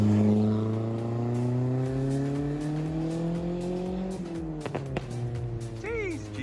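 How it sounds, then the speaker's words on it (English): A Mitsubishi Colt Plus fitted with a pod filter idles close by after a cold start, a steady droning engine note that climbs slightly, with a few short knocks and blips near the end. "this is the cold start"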